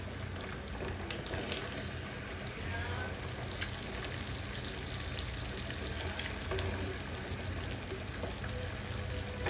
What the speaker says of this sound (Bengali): এটা বাটার দিয়ে ফ্রাই করে যদি আমি এখন পাস্তার উপর দিই